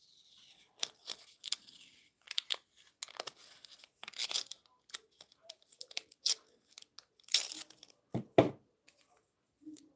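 Washi tape is torn and handled over paper journal pages, producing a string of short, close ripping and crinkling bursts with quiet gaps between them.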